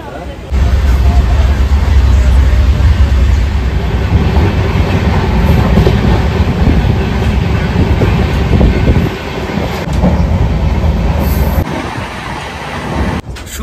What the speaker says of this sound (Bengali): চলো, ট্রেন ছাড়বে মনে হচ্ছে এখনই।